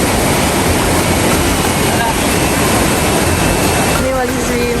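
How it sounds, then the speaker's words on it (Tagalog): A strong river current rushes loudly and steadily throughout, a dense broadband roar of churning water on an outing where people were swimming, with faint voices briefly audible near the end. "Ang lakas po kasi ng alon, no?"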